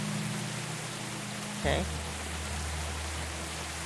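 Steady rain pours outdoors in the video game Sally Face, a continuous hiss that runs throughout, with a low hum underneath and a brief spoken word partway through.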